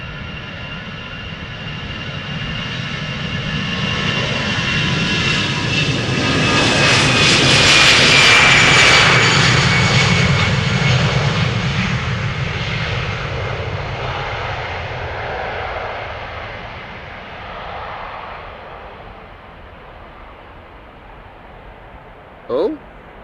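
An EasyJet Airbus A320 departing Amsterdam Schiphol for Bristol, its jet engines swelling into a loud roar with a whining tone, then fading away as it passes close by. A voice is heard near the end.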